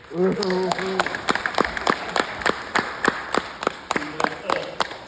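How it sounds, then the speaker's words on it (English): A handful of people at a commencement ceremony clap in scattered, uneven bursts, close by, with voices talking briefly before and after the clapping. "So give yourselves an applause and pat on your own back."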